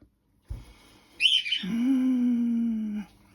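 A pet bird in a home chirps, a thin high whistling call followed by a longer steady tone, close and fairly loud with no talk over it.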